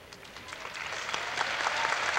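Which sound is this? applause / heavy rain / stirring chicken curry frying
applause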